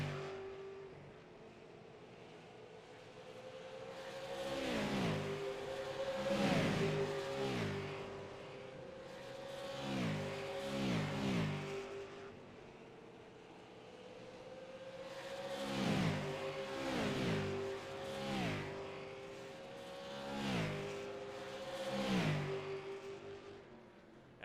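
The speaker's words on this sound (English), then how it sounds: "Mitchell Hodak off of turn number 4 will win in Iowa." Race cars roar past at Iowa Speedway at the finish of a short track race, engines rising and falling in pitch as several cars sweep by in repeated waves, loud and continuous with no talk.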